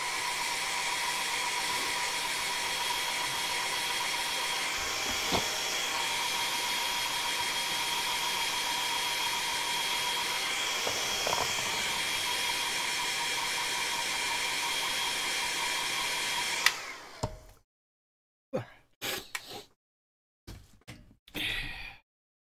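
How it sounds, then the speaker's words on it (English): A hair dryer blows on freshly painted Fallout Wasteland Warfare miniature bases, giving a loud, steady whir for about seventeen seconds before it cuts off, followed by a few short knocks and bumps. "I'm going to give this a hairdryer."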